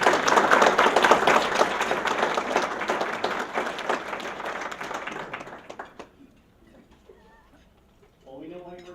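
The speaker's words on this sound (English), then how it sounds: "Well, we know why you were clapping." An audience at a chamber of commerce luncheon bursts into loud, dense applause that gradually thins and dies out, followed by a brief quiet and then a voice speaking.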